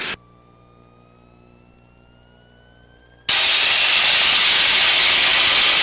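A warbird's piston engine runs at a quiet idle with a faint rising whine, then abruptly surges into a loud, steady roar during its run-up to 1600 RPM.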